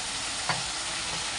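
Spice paste with Kashmiri chilli powder, salt and tomato frying in oil in a pan for a lentil and prawn curry; a steady, dense sizzle with a brief stirring scrape near the middle.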